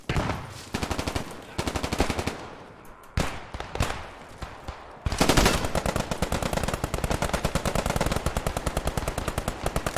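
Automatic gunfire in the World War II shooter Post Scriptum, rapid machine-gun bursts in quick rhythmic strings with short pauses, then a long sustained burst; loud and close, no talking.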